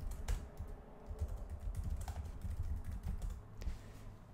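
Someone types a name on a computer keyboard, producing a steady run of soft, close clicks and key presses over a low background hum.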